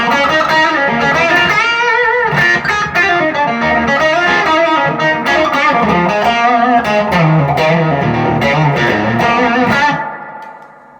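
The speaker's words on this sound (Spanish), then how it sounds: "Esta es una guitarra súper rockera." Rock electric guitar played with heavy distortion, a dense sustained stream of chords and riffs at steady high level for about ten seconds, then cut off and fading away at the end, with no talking.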